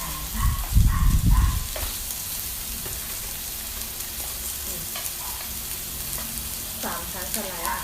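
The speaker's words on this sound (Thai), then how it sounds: "ผัดหอ" Onions stir-fried in a hot pan sizzle steadily for several seconds, with a louder burst of scraping and tossing near the start that settles into an even, close hiss, while occasional faint clinks come through and nobody speaks.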